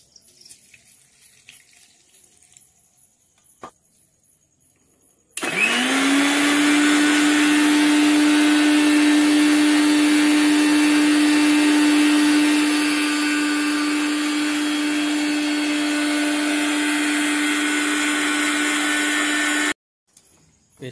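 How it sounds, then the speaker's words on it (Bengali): A mixer grinder blends dried red chili, ginger and cumin into a spice paste. After a quiet start, its loud, steady whirring motor runs for about fifteen seconds and then cuts off abruptly. "এখন এটা হবে মিক্সচার।"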